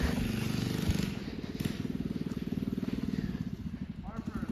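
A mini bike being ridden, a small engine putting along in a fast steady pulse, fairly quiet and somewhat distant, with rhythm shifting slightly as it moves; voices talk faintly in the background.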